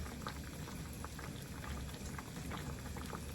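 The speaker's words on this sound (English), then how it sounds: "now it's starting to bubble and cook" A pecan fruit cocktail cobbler bubbles steadily as it cooks, giving a dense, continuous simmering with soft popping bursts close by, with no talking.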